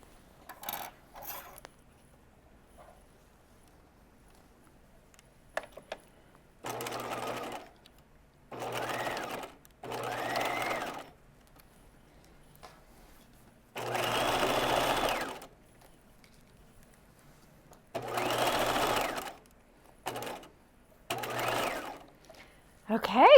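A sewing machine basting a pocket bag to a pant front, running in about eight short bursts of steady stitching separated by pauses with small handling clicks.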